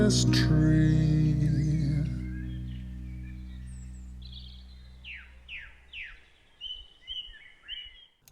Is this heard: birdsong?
yes